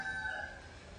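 A rooster crows from the neighboring Balinese villa on a tropical afternoon in Bali, one brief, moderately faint crow in the first half of the moment, then steady outdoor background.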